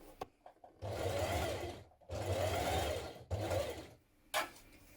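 A sewing machine stitches a wrap dress belt in three runs of steady, whirring mechanical chatter separated by short pauses, followed by a brief click, close and moderately loud.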